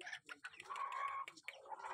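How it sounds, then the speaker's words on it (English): Young chickens in a rural Philippine province cluck and warble close by in a short, busy burst of calls. "Yeah, baby chickens."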